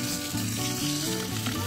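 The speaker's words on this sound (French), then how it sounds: "on fait bien revenir" Meat browns in olive oil in a saucepan as the base for French onion soup, giving a loud, close, continuous sizzle with some stirring scrapes and no voices.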